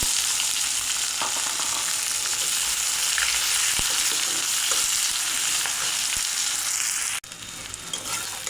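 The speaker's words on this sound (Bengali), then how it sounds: "পেঁয়াজটা হালকা করে ভেজে নিয়েছি।" Chopped onion frying in a pan for a duck curry, a steady dense sizzle with faint stirring scrapes, close and loud, briefly cutting out near the end before resuming.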